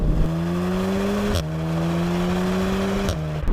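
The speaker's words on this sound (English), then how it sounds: "it's a 2 litre 4-cylinder engine with a big turbo" A Volkswagen Golf R Mk7 DSG with a 2-litre turbocharged four-cylinder of 300 bhp drones loudly and steadily, its pitch climbing through two gear changes with brief breaks between them.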